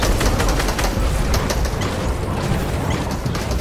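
Rapid bursts of gunfire in the Fortnite video game crackle loud and dense, overlapping with mechanical clatter in continuous volleys without a pause.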